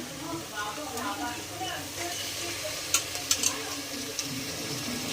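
Chicken pieces dropped into a pan of frying ginger garlic paste for a chicken gravy curry, giving a steady close sizzle with stirring and a few sharp clinks and splashes midway.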